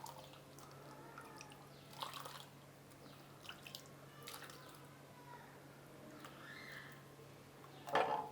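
Milk rabdi being poured into a 350 ml glass, a faint liquid trickle with soft drips and a brief clink near the end, quiet and close.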